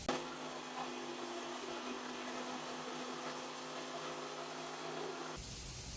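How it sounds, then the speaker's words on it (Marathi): Kitchen mixer grinder whirring steadily as it purees spinach and coriander, a loud sustained motor whine with a constant hum that runs unbroken for several seconds before the pitch shifts near the end. "इथे मी मिक्सरमध्ये पालक आणि कोथिंबीर आहे ना ग्राइंड करून घेते"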